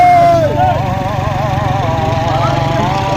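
A tractor engine labours steadily while towing a damaged car out after an accident, a continuous close mechanical drone with a rhythmic low throb, and voices talking over it.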